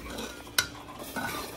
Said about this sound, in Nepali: हल्का एकछिन मजाले भुट्छु